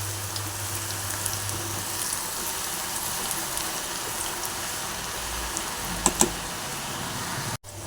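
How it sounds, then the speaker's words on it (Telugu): Cauliflower pakoda deep-frying in oil on a high flame: a dense, even crackling sizzle runs steadily throughout, with a low hum early on and a couple of brief clicks near the end. "మళ్ళీ ఇప్పుడు కొంచెం హై ఫ్లేమ్లో పెట్టి వేపుకోవాలి పకోడీ"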